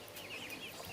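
Light Sussex hens in an outdoor pen give soft, continuous clucking, faint and somewhat distant over a noisy background.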